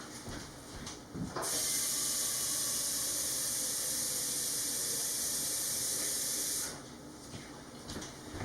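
Water gushes from a tap into a pot for several seconds, a strong steady hiss that starts and stops abruptly.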